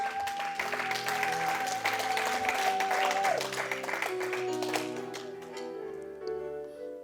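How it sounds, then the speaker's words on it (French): A church congregation applauds the Lord, a sustained crowd clapping that holds steady, mixed with music and voices, then thins out toward the end. "On peut acclamer le Seigneur"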